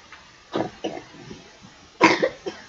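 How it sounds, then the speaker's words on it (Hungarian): Someone coughs harshly and close by, two rough bursts near the start and another pair about two seconds in, with no talk over it. "Hű, de csúnyán köhög itt valaki."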